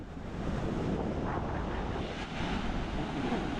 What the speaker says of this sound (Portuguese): O mar com ondas aí mais fracas aqui no raso